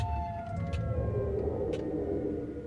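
Siren Head, a custom horror mob in Minecraft, gives off a steady droning siren wail with a low rumbling bed and a couple of higher tonal blips, loud and continuous, with no talking.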